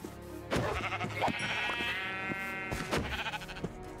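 Minecraft sheep bleat as a herd gathers in the game. Several wavering bleats come through clearly, a few overlapping one another, with no talking over them.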